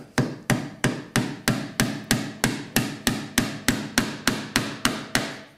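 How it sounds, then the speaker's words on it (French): A hammer drives headless nails into oak while building a TV cabinet and bookcase, with about sixteen evenly spaced sharp strikes in a steady rhythm, close and loud, no voices. "Je positionne et on va clouer pour assurer à la fois un maintien."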